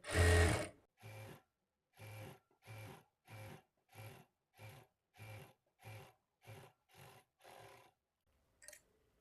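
A sewing machine stitches a blouse lining in about ten short, evenly spaced bursts of rapid mechanical whirring, each separated by a brief pause, close and clear.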